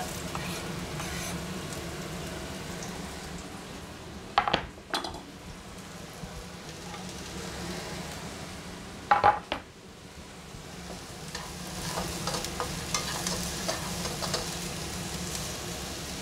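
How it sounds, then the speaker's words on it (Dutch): Shallots and garlic fry in a little oil in a pan, giving a steady soft sizzle throughout, broken by two short bursts of stirring with a utensil scraping the pan, and no talk. "De shallotjes en de knoflook gaan we even een paar minuutjes bakken in een beetje olie"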